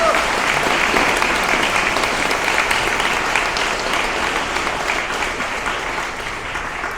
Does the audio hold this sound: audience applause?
yes